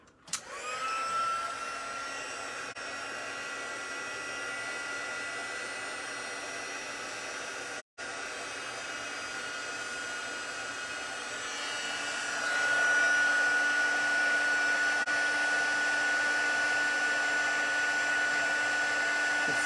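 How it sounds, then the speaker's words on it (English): A heat gun melts embossing powder on a Stampin' Up! card craft project, giving off a steady, loud blowing whoosh with a high whine. The roar runs continuously, drops out for a moment, then gets a little stronger. "bring my heat gun over"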